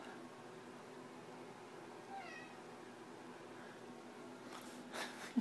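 A cat meows faintly from up on a ladder, a short rising-falling call in the middle of a quiet room, followed by some soft rustling and a brief knock near the end.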